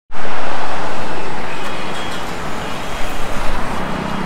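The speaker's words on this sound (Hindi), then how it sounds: "so we are continuing to drive our car towards the restaurant" A car drives along a road toward Gurgaon, a loud continuous roar of road and tyre noise that swells at the start and settles into a steady rushing hum, with no talking.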